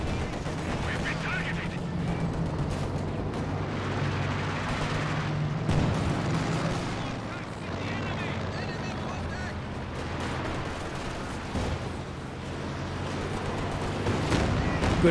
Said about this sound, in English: Nope, the mortar got it.